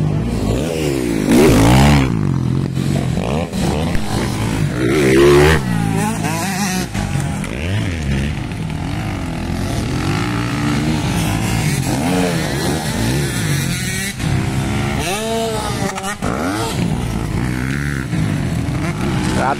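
Novice production motorcycles in a barangay race roar and rev at close range, the pitch rising and falling with repeated acceleration. Heavy clatter and crowd noise run beneath, and a commentator talks over the engines.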